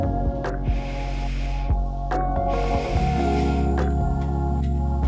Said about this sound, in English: So you're going to be taking 2 sips of air in through your nose